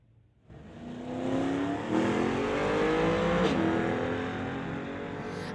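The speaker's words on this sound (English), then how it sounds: "Racing that 1972 Nova." At a street-legal drag race, a 1999 Ford lines up against a 1972 Chevrolet Nova, and the engines snarl loudly and climb in pitch as the cars launch and accelerate hard, rising to a sustained, steadily revving roar.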